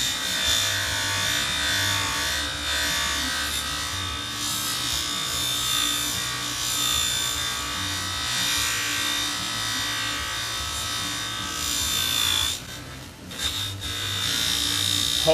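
A buffing wheel polishing a part with compound for a Yamaha Banshee build in a shop, a steady high whirring hum with rubbing friction that briefly dips as the part shifts against the wheel, no talking.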